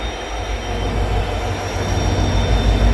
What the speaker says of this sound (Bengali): এই দেখুন একটা ট্রেন যাচ্ছে আর একটা ট্রেন আসছে।